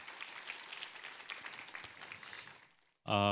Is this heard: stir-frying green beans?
no